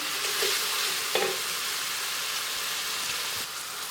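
Food sizzles loudly and continuously in a hot frying pan, with a few soft scrapes as it is stirred, heard close and without talk.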